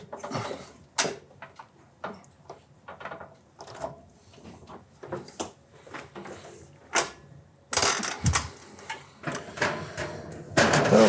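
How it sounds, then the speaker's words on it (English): A Van Mark brake bends metal detail flashing to 45 degrees, with scattered metallic clicks and clunks from the locking lever and then a louder burst of clattering near the end, close up and without talk. "Again, we'll lock that brake. Second bend is 45 degrees."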